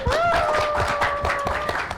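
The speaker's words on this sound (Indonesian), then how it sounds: "Tepuk tangan lu." Clapping from an audience at a Ramadan talk fills the clip, a dense steady patter with a sustained tone held over it throughout.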